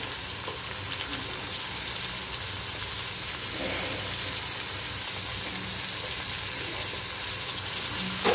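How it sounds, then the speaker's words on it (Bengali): Capsicum frying in a pan with ginger and garlic gives a continuous, even sizzle at moderate level, with faint stirring and no talk. "এবার দিয়ে দিচ্ছি ক্যাপসিকামটা।"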